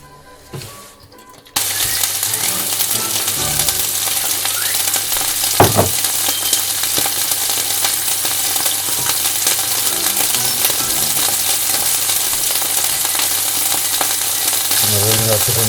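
Beef goulash hits hot oil in a large roasting pan with a brief clatter, then a loud, steady, close sizzle carries on without pause, with an occasional scrape of stirring.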